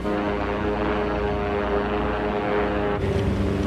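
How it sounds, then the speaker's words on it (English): A propeller airliner in flight through turbulence gives a steady, loud, droning engine rumble with a dense low hum, unbroken throughout and changing slightly in tone near the end. "On the way, the plane hits turbulence and the pilots stray off course."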